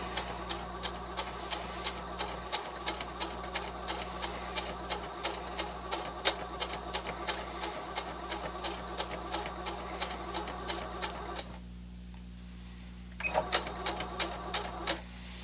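A sewing machine stitches fabric with a fast, even mechanical ticking, running steadily, pausing briefly, then starting again, close and moderately quiet.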